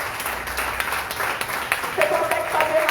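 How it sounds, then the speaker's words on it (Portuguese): A church congregation applauds during a worship service, a crowd clapping steadily at moderate loudness, with voices and a sustained musical tone mixed in toward the end. "Uma salva de palmas para Jesus."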